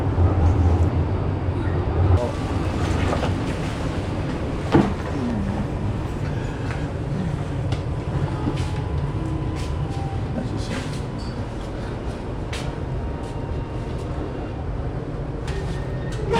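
A passenger train travels near Ocaña, Spain, with a continuous rumbling roar and rattling from the carriage, plus a faint clunk partway through.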